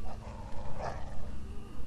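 Low, rumbling dog growl from The Walking Dead video game, a continuous menacing snarl lasting the whole moment, moderately loud with no talk over it.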